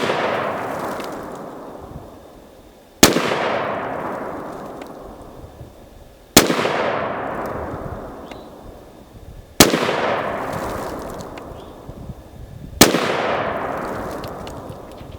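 Five sharp gunshots from a Leviathan Ragnarok AR pistol with a 4.5 inch barrel, spaced about three seconds apart, each loud crack followed by a long echoing decay outdoors.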